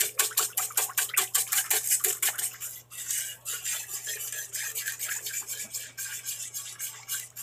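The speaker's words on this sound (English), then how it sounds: "Whisk that egg in really well." An egg whisked into a mac and cheese mixture in a bowl, rapid rhythmic metallic clicks and scrapes of the whisk, fast and close at first, then a softer, steadier swishing stir over a low hum.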